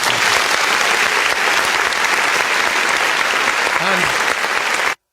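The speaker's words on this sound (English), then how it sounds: "So I think she deserves the round of applause from Peter's Garage." Live-show audience at Peter's Garage breaking into sustained, dense applause, loud and close, continuing evenly for about five seconds before cutting off abruptly.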